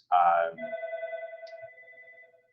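A telephone rings at a closed venue: a brief loud burst followed by a steady, tonal electronic ring that gradually fades, with a voice at the start.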